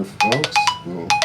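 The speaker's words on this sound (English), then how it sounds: "Excuse my phone there" A phone ringtone plays close by in short, bright repeating tones, with a voice speaking briefly over it.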